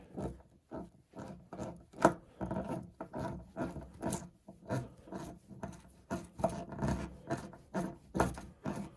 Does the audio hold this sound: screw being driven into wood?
yes